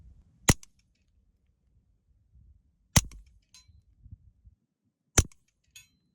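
Three sharp, loud .22 LR pistol shots from a Taurus TX22C fired strong hand only, spaced a couple of seconds apart, each a crisp crack followed by a faint metallic clink in an otherwise quiet outdoor setting.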